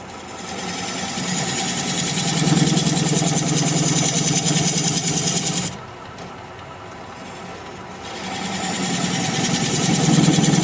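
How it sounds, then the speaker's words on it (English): A wood lathe spins steadily while a half-inch gouge cuts a recess into end grain, a loud, continuous whirring hum that drops briefly when the cut pauses before the tool engages again. "I'm going to switch to a smaller gouge to make that recess."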